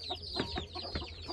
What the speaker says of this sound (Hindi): ये देखो मुर्गी के बच्चे